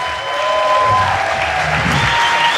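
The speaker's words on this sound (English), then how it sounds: "Let's give them a big round of applause." Guests at a dinner celebration applaud together, a broad steady patter of many hands that swells slightly after the start, with faint tonal hum and low voices mixed underneath.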